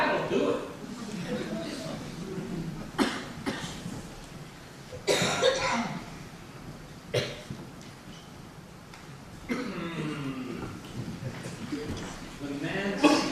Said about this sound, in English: The cough is bad, but nothing that can't be cured.